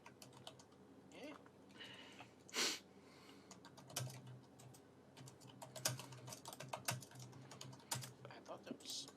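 Rapid, irregular typing on a computer keyboard, close and clear, with a brief sniff or breath early on.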